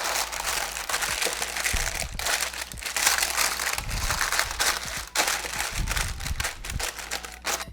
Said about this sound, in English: And on top of that, I'm gonna add some parchment paper.